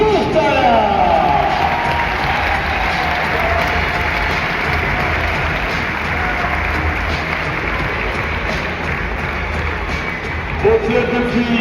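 A basketball crowd applauds steadily for Serge Mourtala at a French Pro B game, Vichy Clermont Métropole versus Rouen. The clapping is loud, dense and continuous for the whole stretch, with an amplified voice faintly underneath.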